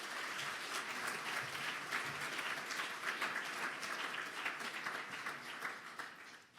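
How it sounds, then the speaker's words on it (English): A conference audience at a European security forum applauds in a sustained, dense round of clapping from many hands, steady and fairly distant, fading slightly at the end. "my team has to deserve a round of applause once more for this great effort"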